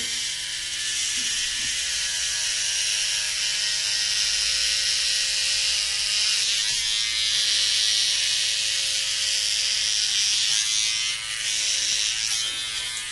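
Electric hair clipper running steadily as it cuts hair during a home haircut, a continuous close buzzing whir with a faint ratcheting texture, alone without talk for the whole stretch.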